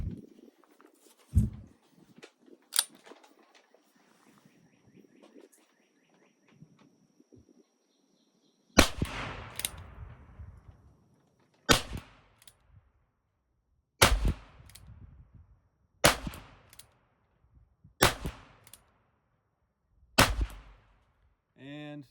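A Ruger Super Wrangler .22 single-action revolver fires a string of sharp, close shots, spaced roughly two seconds apart after a pause, with faint handling clicks and light background sounds earlier.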